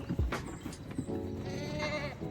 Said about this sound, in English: Noises from the animals.